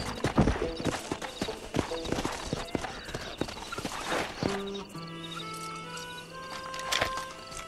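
Horses in Red Dead Redemption clop along with quick, uneven hoofbeats close by, then a horse gives a drawn-out whinny as the hooves fade, with faint ambient tones behind.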